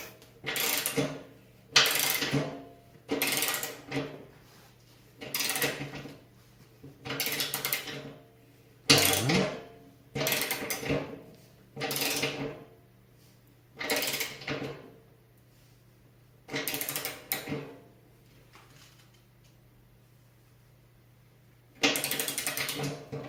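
A ratchet wrench tightens a radiator fitting in a run of about a dozen rapid clicking strokes, each a short burst of metallic ticking separated by brief pauses, close and clear with no talking.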